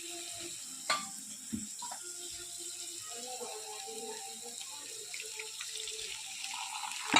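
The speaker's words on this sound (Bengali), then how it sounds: "একটু সামান্য জল দিয়ে দেব" A small splash of water goes into a pan of frying garlic and spice masala, making a soft, steady trickle and sizzle with a couple of brief clinks near the start.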